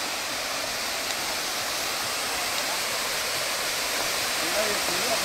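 Thác Mu waterfall in Vietnam pours in a steady, dense, hissing rush that stays loud and unbroken throughout, with no clear voices.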